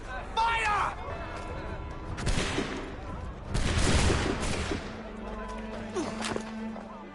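Musket volley fire in Assassin's Creed 3 Remastered, bursts of crackling gunshots and booms mixed with shouting and crowd noise, followed by a lingering hum and scattered sounds.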